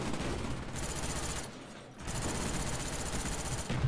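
Rapid automatic gunfire in Black Ops 1 on PC, dense crackling bursts that pause briefly midway and then resume, loud and continuous, with no speech over them.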